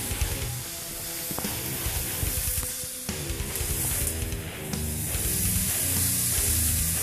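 Food seasoned with cayenne, cumin and brown sugar sizzles loudly and steadily while cooking. The dense frying hiss carries on unbroken, with a few small crackles and pops on top and no talking.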